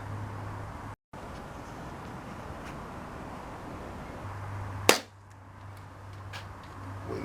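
A Zasdar PP700 air pistol fires a single sharp crack at a bottle thirty yards downrange, one shot cutting through steady outdoor wind noise and a low hum.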